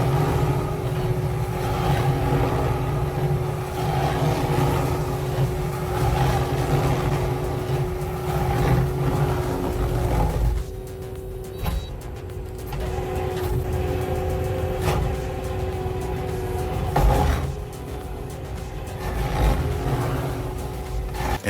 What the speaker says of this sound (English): An extremely large and hard tree stump is being removed by a specialized stump grinder.